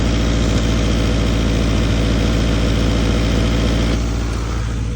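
A Honda Integra engine idles steadily after an exhaust leak repair, a loud, even low rumble that holds unbroken and close throughout.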